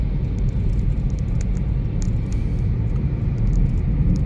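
A car drives along a well-maintained flyover in Delhi, a steady close road rumble and engine drone with faint tyre noise and no talk.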